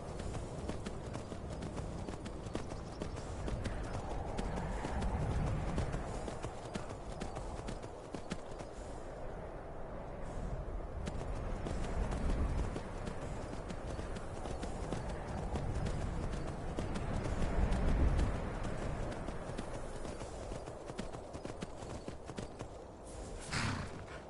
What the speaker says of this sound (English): Get on my trusty steed.